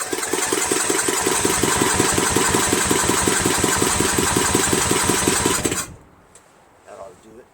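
Murray Select 13.5 hp 40-inch lawn tractor engine cranking over, a loud, rapid, even chugging of the starter turning the engine for about six seconds, then cutting off abruptly into near quiet with a faint voice afterward.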